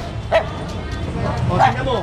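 A dog gives two short barks, one early and one later, with voices and background noise around them.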